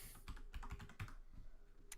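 Typing on a computer keyboard: quiet, irregular clicking keystrokes in a soft run, heard alone.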